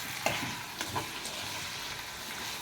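Cauliflower fritters fry in oil in a pan, a soft, fairly quiet sizzle with a few brief scraping or spattering bursts near the start.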